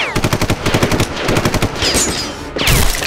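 An AK rifle fires rapid bursts in a live-action skit, a close, loud, rhythmic stream of shots with a brief pause before another harsh burst.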